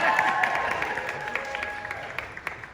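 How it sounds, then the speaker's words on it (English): Audience applause at a Realme smartphone launch party in Australia, scattered clapping with a few sharper claps standing out, moderately distant and fading, over a faint background murmur and ringing tones. "Yeah, applause."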